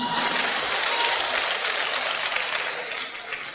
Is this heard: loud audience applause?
yes